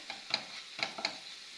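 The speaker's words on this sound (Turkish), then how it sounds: "Hafifçe bunu da kavuruyorum şöyle." Tomato and pepper paste sizzles gently in a pan as it is sautéed and stirred, with a steady close frying hiss and a few soft scraping strokes.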